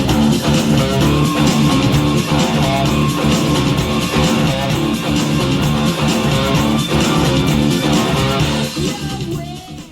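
Distorted electric guitar on the bridge pickup, picked with a pointed pick through an amp set to distortion, playing the electric part of a song; a dense, loud, continuous rock riff that fades out at the end.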